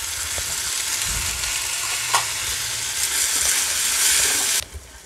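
Chopped tomatoes go into onions frying in a pan, giving a steady close sizzle with light stirring and scraping throughout, then a sudden drop near the end.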